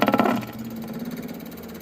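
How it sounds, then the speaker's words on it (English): Electric fuel pump on a Plot combine running after the battery negative is connected, giving a steady, fast mechanical clicking and buzzing at close range after a brief louder start, with no talking. "this is why I call these the clickety-clack pumps. They just clickety-clack along all day long."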